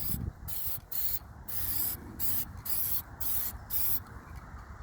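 High-heat spray paint applied to a rusted BBQ grill: a series of short aerosol hisses in quick bursts with brief pauses between, close and fairly quiet, no talk.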